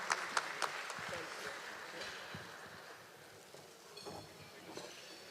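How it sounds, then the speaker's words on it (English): Scattered applause from a ball audience at a Trinidad and Tobago Ball event honouring the City of Miramar, a few sharp claps up front thinning into faint, distant clapping and room noise. "Once again, a big round of applause."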